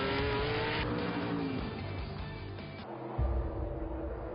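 Group C race cars, a Mercedes-Benz C12 and a Porsche 962C, roar past at speed on an Italian circuit during an endurance event, engines droning loudly and continuously with shifting pitch.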